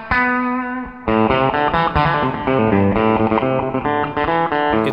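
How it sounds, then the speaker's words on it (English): World's oldest electric guitar played through slapback reverb and delay with special pickups in a venue: a sustained chord, then a bright run of plucked notes with echoing repeats, loud and close. "A sort of slapback reverb, delay maybe."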